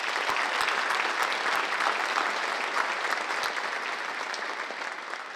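An audience at an annual public safety awards ceremony applauds, continuous even clapping from a sizable crowd at moderate level, sustained for several seconds with a few sharper claps standing out early.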